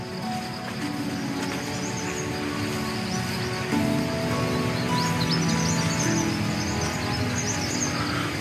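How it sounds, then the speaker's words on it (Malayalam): Birds call in a forest at Churulipetty, with thin, scattered chirps over a constant bed of rushing water and insect hum, no voices present. "ബേഡ്സിന്റെ സൗണ്ട് കേൾക്കുന്നുണ്ട് നന്നായിട്ട്."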